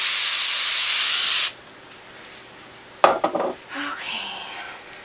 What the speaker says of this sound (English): You have to spray it good too.